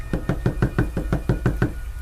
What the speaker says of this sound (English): Just then, there was more knocking.